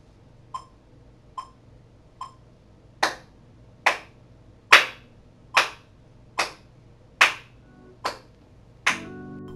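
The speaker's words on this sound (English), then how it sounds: "we're just gonna clap along with it and feel the pulse." Hand claps keeping time with a metronome at 72 BPM during a beginner strumming guitar lesson, three soft ticks followed by eight sharp, evenly spaced claps, close and distinct in a quiet room.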